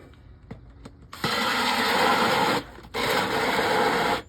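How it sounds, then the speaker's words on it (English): A power drill bores holes during a Neo Geo arcade cabinet restoration, two loud sustained grinding runs separated by a brief pause, with a few light knocks before the first. "Why I like to drill half through one way and then half through the other is so that it doesn't get stuck in the drill bit."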